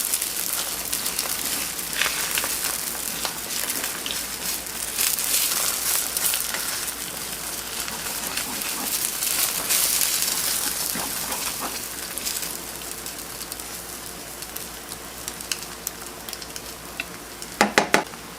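Egg omelet frying in a Teflon pan gives a steady, close sizzle with soft crackle that holds throughout, with a few sharper clicks near the end and no talking.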